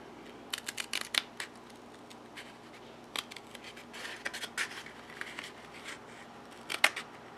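Small scissors snip through a toilet paper roll in short, crisp bursts, some quick runs of cuts and scattered single snips over faint room noise.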